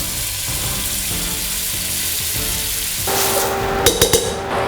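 Vegetables with chopped celery and salt fry in a pot for a village-style soup, giving a steady close sizzle that grows louder and busier partway through, with a few sharp clinks of utensils near the end and no talking.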